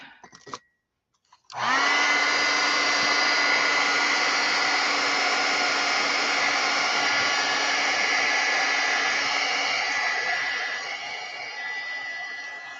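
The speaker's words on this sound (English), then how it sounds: "I have to take my heat gun to that and" A heat gun blasts hot air to soften glue on an art project, starting abruptly after a short pause and holding as a loud, steady roaring whoosh that eases slightly near the end.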